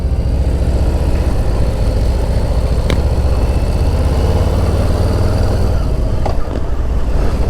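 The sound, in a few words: Harley-Davidson Softail Standard motorcycle exhaust rumble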